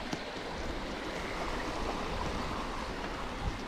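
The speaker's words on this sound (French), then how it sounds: "on entend la rivière à côté" A steady, soft rush of flowing water, like a river running nearby, continuous and low without any voices.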